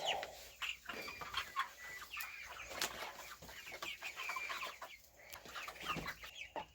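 Ten-week-old hens cluck softly and steadily, with faint scattered taps and scratches of pecking at corn underneath, close by in a quiet setting.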